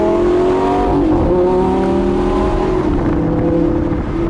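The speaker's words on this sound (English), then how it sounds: "get the valves open, get those absolutely insane V10 downshifts" A naturally aspirated V10 in a Lamborghini LP560 in sport mode with the exhaust valves open, revving loud and close with sharp throttle blips as it downshifts, then a sustained howl.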